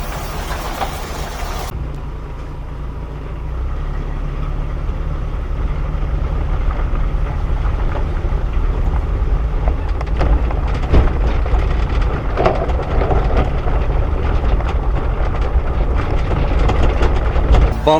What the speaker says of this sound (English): Bumpy, loud vehicle.